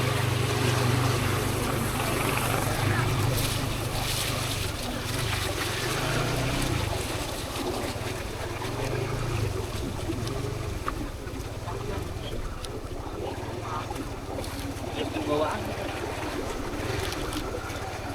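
A strong flood current rushes past in a flooded village in Mempawah, Indonesia, heard from a boat as a steady broadband wash of water with wind noise on the microphone, while someone speaks over it.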